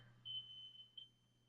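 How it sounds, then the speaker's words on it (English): A smoke alarm gives a low-battery chirp: a thin, high electronic tone that rings for about a third of a second, then a second brief chirp follows, both faint over a low steady hum. "those smoke alarms just need a good old battery change"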